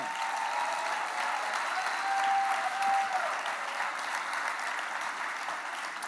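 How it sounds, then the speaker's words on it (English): Sustained applause from a crowd at an awards gala, dense clapping that holds steady throughout with a slight swell in the middle. "So I have to ask for a round of applause for that"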